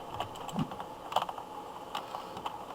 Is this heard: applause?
no